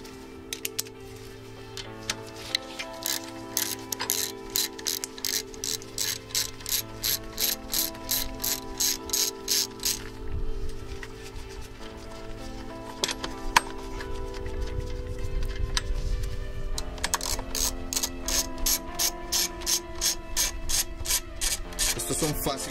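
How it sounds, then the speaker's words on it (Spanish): A ratchet clicks steadily while two bolts come off the alternator of a 2009 Chrysler Town & Country 3.8 minivan, with rapid metallic ticking in bursts, a pause midway, then more ratcheting, close and clear. "Y ahora vamos a quitar estos dos tornillos."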